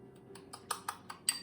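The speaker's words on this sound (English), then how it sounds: "So now I'm just going to mix this up. I'm just going to keep using my spoon." A spoon clinks against a bowl while mixing a dry spice rub for chicken thighs, with six or so light, quiet taps at an irregular rhythm over a faint background hum.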